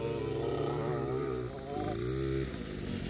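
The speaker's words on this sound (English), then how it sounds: "Oh, second gear dyan, Zion." Motorcycle engine during a child's riding practice while shifting gears, a steady close engine drone with pitch sweeps as gears change and revs rise and fall, with a voice calling out briefly.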